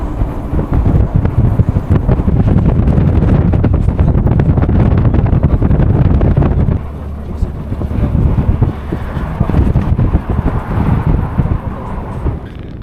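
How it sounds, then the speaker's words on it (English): Cold, strong wind blowing outdoors at Deluun Boldog, a loud continuous roar buffeting the microphone for over twelve seconds, easing briefly midway, with no speech. "It's freezing cold outside, it's quite windy"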